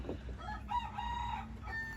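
Chickens and a rooster crow and cluck nearby while someone works on an old Ontario hickory knife, the rooster's drawn-out crow rising clearly above a low background hum.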